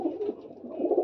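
Pigeons in a loft give a soft, low, throaty cooing that rolls on continuously and close by for about a second, with no talking.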